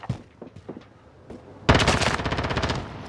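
Rapid automatic gunfire in Call of Duty Warzone, played in a squad match with M91 and MP7 rifles: a few scattered distant shots, then a loud sustained burst of close machine-gun fire.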